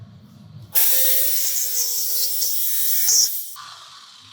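A loud, steady power saw whines through a clamped hardwood floor board for a few seconds, starting abruptly and stopping just as suddenly, with faint clunks before it.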